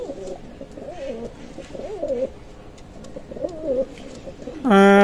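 Pakistani Teddy pigeons cooing nearby in repeated soft, rolling calls over a low background, with a brief burst of electronic tones at the end.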